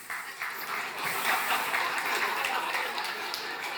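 One man in an audience claps his hands in a quick, fairly loud patter of rapid claps that continues steadily throughout.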